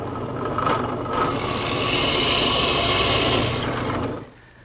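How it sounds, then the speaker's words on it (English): A Forstner bit boring 1-inch-diameter holes an inch deep into redwood, making a steady, loud grinding whir of cutting wood that runs for about four seconds before cutting off abruptly into quiet. "The next step is to drill a series of holes, 1 inch in diameter, using a Forstner bit, which is set to go to a depth of 1 inch."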